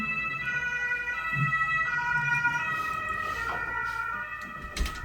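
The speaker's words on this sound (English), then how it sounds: "the sounds of the material world. Ambulances and police cars." Steady wailing ambulance and police sirens fill the whole stretch on a Berlin street, layered and sustained over a low rumble of traffic.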